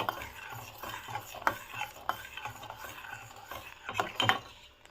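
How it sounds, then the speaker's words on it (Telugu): Sugar being stirred into milk in a pan, with soft rhythmic scraping and occasional spoon clinks against metal, close and moderately quiet, no voices. "మొత్తం మిక్స్ చేయండి కరిగేంతవరకు షుగరు"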